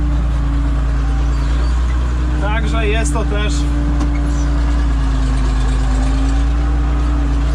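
A heavy six-cylinder diesel tractor engine idles steadily at close range with a low, constant rumble, while someone talks over it.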